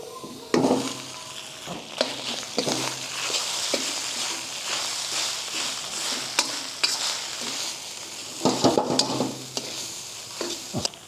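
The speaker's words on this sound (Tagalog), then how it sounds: "Sunod na natin ilagay yung kanin." Cooked rice tipped into a hot pan with garlic for beef pares, then stirred and fried: a steady sizzle broken by repeated scraping and clinking of a spatula against the pan, fairly close.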